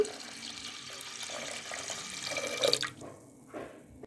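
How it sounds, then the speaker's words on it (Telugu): Water pours and splashes steadily into a cooker holding cleaned toor dal, a running-tap rush that cuts off near the end with a few trailing drips. "హాఫ్ లీటర్ వాటర్ యాడ్ చేసుకుందాం"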